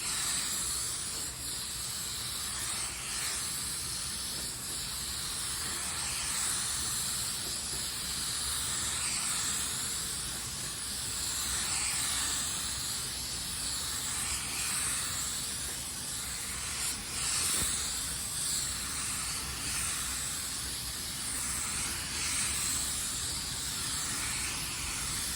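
Spray gun laying clear coat over a car's basecoat panels, a continuous airy hiss with slow rhythmic swells as the gun sweeps back and forth, close and steady throughout, no talking.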